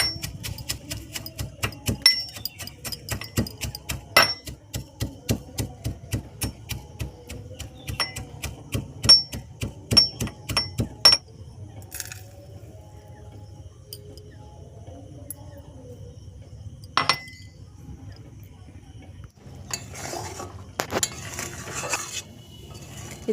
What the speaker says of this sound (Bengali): আর এদিকে আমি মশলার মিশ্রণটাকে গুঁড়ো করে নেব।